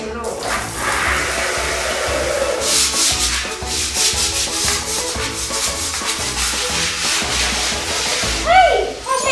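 A dirty bathroom wall being scrubbed gives a close, harsh, steady rubbing and brushing noise with quick repeated strokes, a watery hiss underneath, and a sharper scrape just before the end.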